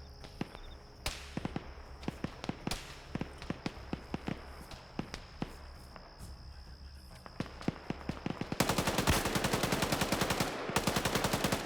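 In an online shooter match, scattered sharp gunshots crack over a faint background hum, then a machine gun opens up in a long, rapid, sustained burst, loud and close.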